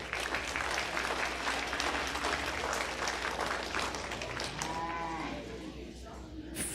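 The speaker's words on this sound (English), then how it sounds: "Let's go ahead and give those young people a big round of applause." An audience at a county stock show claps in a sustained round of applause, loud and dense, then thinning toward the end, with faint livestock and voices underneath.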